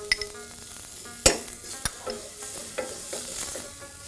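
Tomatoes hit a hot pan of oil and spices, giving a steady sizzle with sharp metallic clinks of a utensil against the pan, close by, no voices.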